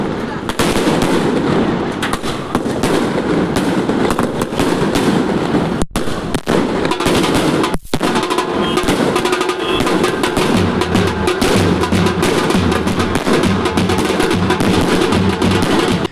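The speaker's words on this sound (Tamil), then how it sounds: "பட்டாசு வெடித்து செலிப்ரேட் பண்ணுறது" Country firecrackers burst loudly in a dense, continuous crackle during a film fans' celebration, with a couple of sharp louder bangs partway through and voices mixed into the din.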